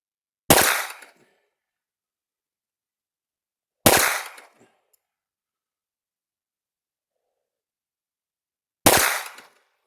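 Three single Colt 1911 pistol shots at an outdoor range, each a sharp loud crack with a short decaying tail, spaced several seconds apart with silence between.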